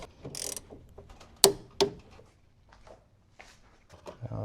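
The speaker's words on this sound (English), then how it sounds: "put the bolt in, torque this down to 35 foot-pounds" A ratchet wrench torques down the bolt on the oil bypass filter lid of a 3.0L Duramax, a few sharp metallic clicks among soft handling sounds, close and fairly quiet.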